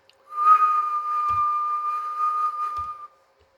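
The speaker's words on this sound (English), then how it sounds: "So I can do things like whistle and go." A man whistles one steady, sustained tone close to a microphone during an audio test, with two faint clicks under the note.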